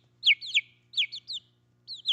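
Chickens making short, bright clucks in quick clusters of two or three, repeated three times over a low steady hum, fairly close.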